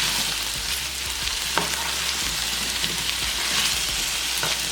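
Breakfast potatoes fry in a pan with steady crackling sizzle, close and fairly loud, occasionally stirred, with no voices.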